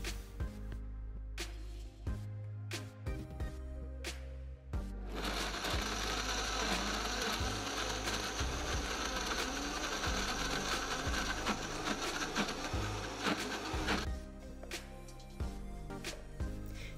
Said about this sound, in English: Add a little bit of the oil to move the blades, make it easier on your blender.